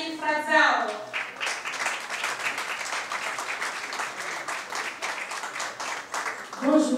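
Audience applause for an Angolan singer at a Kinshasa press conference, dense steady clapping that swells and runs for several seconds, with voices at the start and end.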